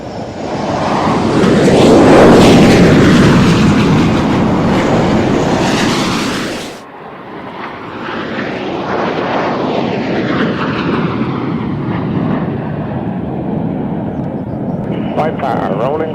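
Four Hawker Hunter jets of Team Viper fly an air display, a loud roaring pass that swells and sweeps overhead, cuts off abruptly, then another rushing jet pass follows with a commentator talking over it.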